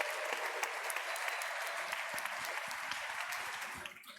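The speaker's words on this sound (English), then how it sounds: "So give a big applause to our team." Sustained applause from a conference audience at a closing and awards ceremony, steady dense clapping throughout that fades slightly at the end.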